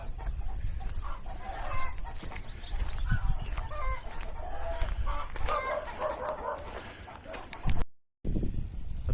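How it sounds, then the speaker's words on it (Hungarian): A large rooster in the Vietnamese mountains clucks and crows repeatedly amid a busy outdoor background with faint voices, the sound cutting out briefly near the end. "Nézzétek annak a kakasnak a méretét."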